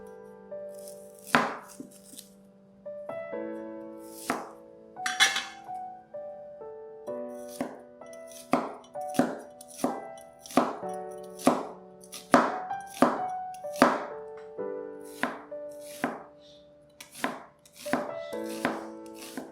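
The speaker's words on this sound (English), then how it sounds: "finely chop up 4 to 5 tablespoons of shallots" Knife finely chopping shallots on a cutting board, heard as a close, steady run of sharp, rhythmic chops in quick bursts with short pauses between, alone with no talk.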